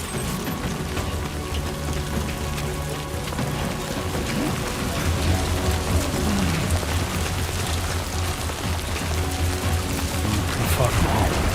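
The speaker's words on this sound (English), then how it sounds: "Rain. Gotta move." Rain in the video game Death Stranding 2: On the Beach, a steady dense patter on surfaces with a low rumble beneath, continuous and fairly loud throughout.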